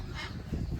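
Parrots squabbling behind glass at the Vizag zoo park give harsh, raspy squawks and honk-like calls, a rough, continuous burst of noise that is close but fairly quiet, with no talking.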